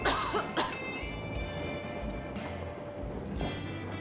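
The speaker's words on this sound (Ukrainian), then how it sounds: "Кашель цей дурнуватий." A character in Metro Exodus coughs a few times near the start, then more hoarse coughs follow, fairly quiet over a low background hum.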